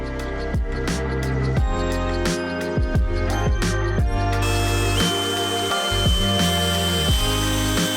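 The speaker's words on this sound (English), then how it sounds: "drill them through here, sink some screws through it" A power drill drives screws into drywall anchors in the high-roof ceiling of an extended 2021 Ford Transit van, with loud, close whining that repeatedly spins up and winds down in pitch.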